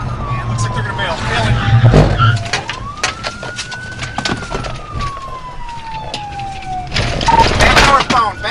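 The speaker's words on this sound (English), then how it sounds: "With lights flashing and sirens blaring, the pursuit is on." A police siren wails in a long rising and falling sweep over engine noise and tire screech, loud and close, with bursts of radio chatter.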